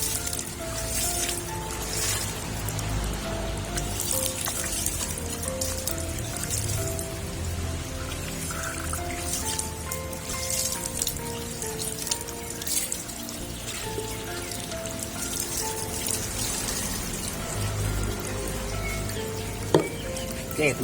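Water poured over a twin coconut bonsai in its pot, a steady splashing and pattering stream of drops that runs on continuously and fairly close, with no speech over it.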